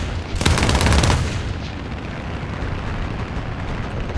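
Aircraft cannons fire in War Thunder air arcade from an He 112 B-1/U2 fighter, a loud rapid burst lasting about a second over a constant engine and wind roar that continues after it stops.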